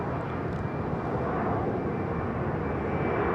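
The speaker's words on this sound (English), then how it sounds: "Hey, is this the Aer Lingus A330?" An Aer Lingus Airbus A330 airliner in the old livery rumbles past at London Heathrow, a loud, steady wash of jet engine roar with no pause.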